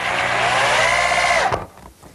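A power driver sends a self-drilling screw into pressure-treated lumber, a loud steady whirring rise lasting about a second and a half that stops sharply as the screw seats, followed by quiet.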